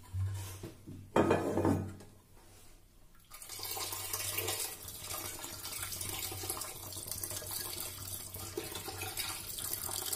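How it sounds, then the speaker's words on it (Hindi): Water runs and splashes into a metal pot of cream being made into ghee, close by, starting with a short burst and then continuing as a steady rushing stream. "अब इसमें पानी डालेंगे"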